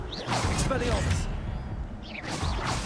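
Expelliarmus spell casts in a Hogwarts video game, two bright swooshing whooshes with rising sparkly tones, separated by a short gap, over soft game ambience.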